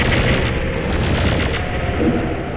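A plasma gun in Doom 64 Retribution fires continuously, producing a loud, dense stream of booming energy blasts with no pauses.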